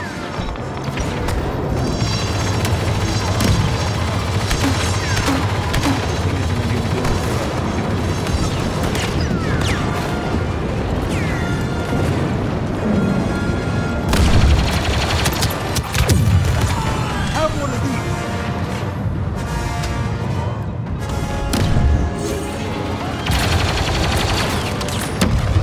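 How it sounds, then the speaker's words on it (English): Continuous heavy gunfire and booming blasts from a Star Wars Battlefront II battle, with artillery fire mixed into a dense, loud barrage that runs steadily throughout, voices heard faintly underneath. "Artillery, fire."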